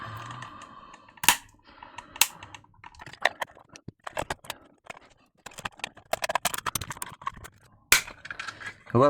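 A plastic 12V 5A power supply case is pried and ripped open, giving sharp cracks, snaps and scattered clicks of varying loudness with quiet gaps between them, no talking.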